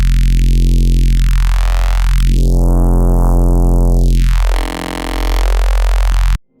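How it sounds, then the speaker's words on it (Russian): Synthesized neuro bass passing through a notch filter swept by a random LFO, a loud, buzzing, harmonically dense drone whose hollow notch slides up and down in uneven arcs, ending abruptly, with no voices. "Это notch, который модулируется Random LFO."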